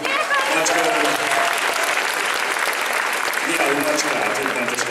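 Loud, sustained audience applause fills the hall at a spring cosplay craftsmanship contest, a dense wash of clapping running steadily throughout with voices faintly mixed in.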